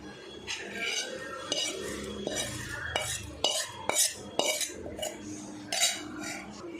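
A spoon stirs tempering into chutney in a metal vessel, giving repeated close clinks and scrapes with a faint sizzle and no talk.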